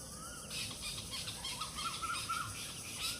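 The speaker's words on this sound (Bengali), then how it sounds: "পাখির ডাক" Birds call faintly in rural countryside beside a river and dirt path, a few soft whistled and hooting notes drifting over quiet outdoor ambience.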